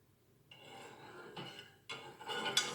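A spoon stirs turmeric milk in a cup or pot, with soft scraping and clinking strokes that come in a few separate bursts, quiet and close, with no talking.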